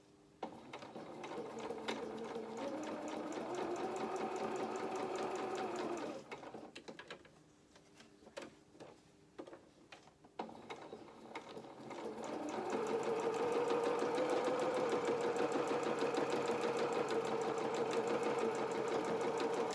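Sewing machine stitching fabric for a doll's elephant head, running in steady loud bursts with a short pause in the middle before a long continuous stitching run.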